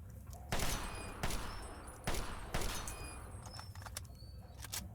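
Gunshots ring out at a shooting range in Fallout 3, roughly four sharp, fairly loud reports spaced about a second apart over low ambient hum.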